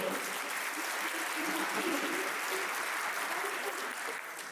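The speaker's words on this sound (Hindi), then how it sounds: "तालियों का घंटा बढ़ाइए" A crowd applauds continuously, a dense, even wash of clapping that holds steady and fades slightly at the end.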